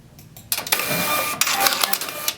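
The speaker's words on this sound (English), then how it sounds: "So let's go ahead and print a ticket here." A KR403 kiosk printer prints and cuts a ticket, producing a quick whirring, rattling run of mechanical bursts close up, with brief clicks and pauses between motions.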